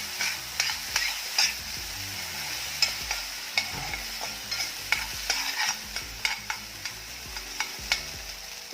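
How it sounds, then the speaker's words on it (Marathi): Soaked sago pearls sautéed briefly in ghee in a pan, a soft continuous sizzle under frequent scraping and clinking strokes of a stirring spoon. "ते हलकेसे परतवायचे।"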